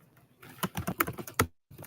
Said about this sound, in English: Sorry if I slam on my keyboard.